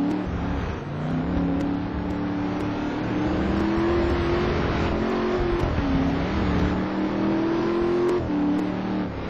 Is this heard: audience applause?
no